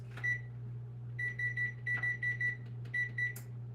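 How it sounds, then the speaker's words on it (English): A kitchen timer beeps repeatedly in quick bursts of short electronic tones, going off while acorn squash with brown sugar bakes in an oven, over a steady low appliance hum. "We're gonna put a timer on there."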